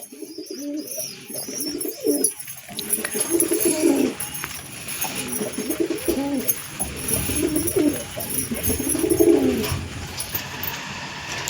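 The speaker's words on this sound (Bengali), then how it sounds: "পায়রাগুলো নাবে না, তো উপরে বসে আছে।" Pigeons perched on a rooftop coo repeatedly in soft, low bursts, several calls close together and fairly near, with faint chirps and outdoor background noise around them.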